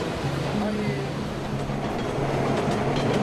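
New York subway train running, a steady rumbling roll of rail cars with low tonal hums and faint rhythmic clatter, continuous and fairly close, with a voice faintly present underneath.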